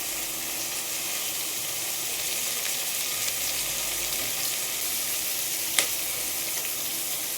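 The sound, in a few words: frying in cooker for tomato rice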